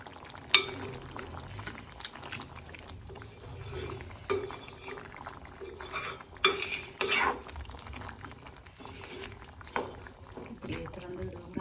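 Jaffna-style beef curry frying in a pot, soft crackling sizzle with intermittent stirring scrapes and a few louder clinks of a spoon against the pot, with faint talk in the background.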